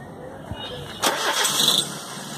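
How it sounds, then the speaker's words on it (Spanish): A Kia Rio with a MAF sensor fault cranks and fires up at about one second, then settles into a steady, fairly close engine running with a faint higher whine above it. "ahora lo que vamos a hacer nosotros es encender el vehículo"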